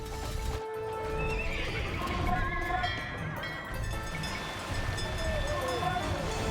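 Horses neigh and whinny with clip-clopping hooves in the Alexander the Great campaign of a real-time strategy game, several calls rising over steady hoofbeats at close range, with a voice briefly heard.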